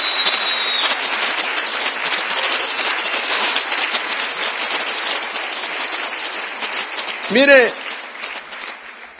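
A church congregation claps for the Lord in a steady, dense wash of applause throughout, with a brief spoken word near the end.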